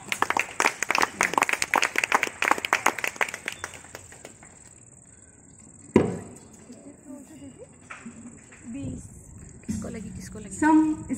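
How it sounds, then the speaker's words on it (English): Quick, lively clapping from a crowd at a residential building's annual day celebration lasts about four seconds, then stops, giving way to quieter room noise, thumps and voices. "please, ladies and gentlemen, give a big round of applause to all of us"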